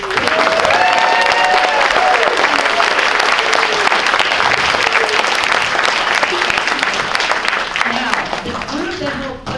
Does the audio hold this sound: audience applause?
yes